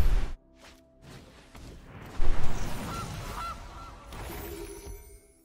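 Gilded Goose card in MTG Arena gives a loud cartoonish goose honk, with a brief burst of game effects and then several softer squawks. No voices are heard.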